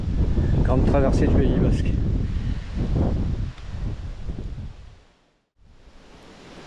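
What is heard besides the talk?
gusty wind while mountain biking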